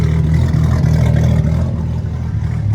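A BMW F80 M3 running a single-turbo kit rumbles loudly through a single-exit exhaust, with a steady low, throaty drone and slight pitch wavering, close and continuous.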